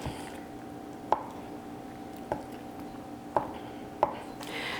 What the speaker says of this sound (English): I also do a little bit more chopping, so they're smaller pieces